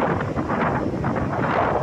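Steady, roaring monsoon wind at a beach at high tide buffets the microphone, a constant rough rush of air with gusty swells and no voices.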